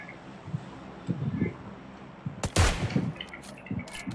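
A sharp burst of gunfire in PUBG Lite cracks out once midway, loud and close, over quieter game ambience and a few faint earlier pops, with a voice talking in the background.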